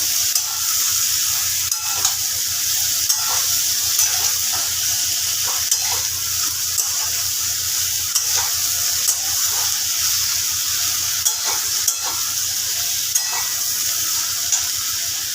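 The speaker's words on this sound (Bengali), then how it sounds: "ভালো করে আলু বেগুনগুলোকে একটু ভাজা ভাজা করে নেব" Potato and eggplant pieces fry in hot oil for a hilsa fish-head dish, a loud continuous sizzle broken by regular scraping strokes of a spatula as they are stirred, close up with no voices.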